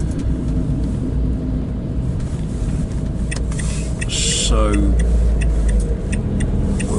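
A motor car in the village of Martizay, France, drives along with a steady low engine rumble that swells briefly near the end, as if pulling up, while a voice speaks faintly over it.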